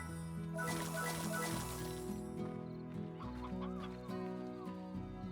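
Game chicken clucking in Slime Rancher, a short burst of fowl clucks over a steady looping background music bed, then quieter scattered clucks as the tune carries on.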